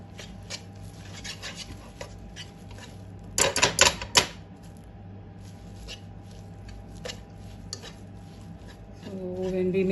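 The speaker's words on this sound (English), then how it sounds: "So when we mix it with this egg beater, the lumps are not there." An egg beater whisks a mixture for pumpkin peda in a pot, giving quiet clicking and scraping with a short burst of louder rapid rattling midway, close and mostly alone.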